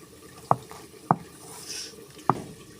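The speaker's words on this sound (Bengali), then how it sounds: "পটল, পেঁয়াজ, রসুন এগুলো বেসম আটার সাথে চটকায়ে" Wet squishing from hand-mixing chopped pointed gourd, onion and garlic with gram flour and a little turmeric, three soft close squelches spaced apart with faint handling noise between, no talk.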